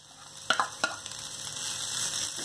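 Vegetable fried rice with carrots, French beans and boiled rice stirred in a hot pan: a spatula scrapes and clatters a few times over a continuous soft sizzle of frying.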